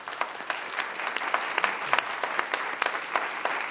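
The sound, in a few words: audience applause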